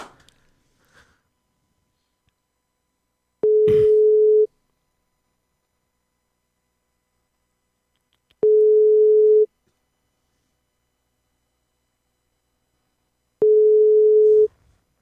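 Three evenly spaced one-second electronic telephone tones sound during a prank call on a radio show, clear and steady, with near silence between them.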